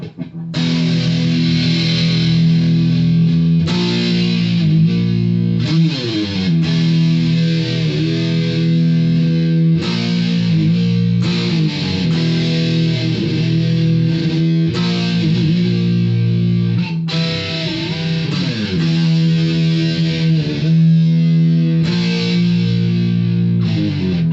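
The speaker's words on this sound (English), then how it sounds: "So now I'm going to turn on the distortion and the chorus, going back to the bridge." Electric guitar on the bridge pickup with heavy distortion and a shimmering chorus effect, playing sustained chords and riffs continuously and loudly, no voices.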